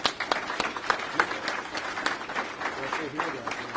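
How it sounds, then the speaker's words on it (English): Audience applause for Joe Hodas, CMO of Dixie Elixirs, at an Opportunity Coalition talk: a steady, moderately loud patter of clapping through the whole stretch, with some talk mixed in. "Let's give Joe a round of applause."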